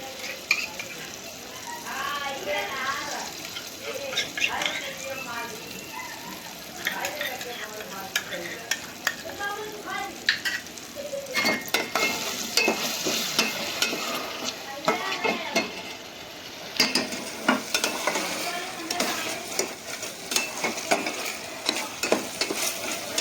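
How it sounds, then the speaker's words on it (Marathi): Ginger garlic paste frying in a pan with onion and tomato for a Malvani prawn curry, a soft continuous sizzle broken by repeated scraping stirs and utensil clicks, with faint voices in the background. "आलं लसूण पेस्ट पण व्यवस्थित भाजून झाली आहे"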